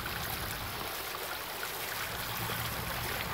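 Water spills steadily over a crater rock boulder water feature, a continuous close trickling and splashing flow with no break and no voices.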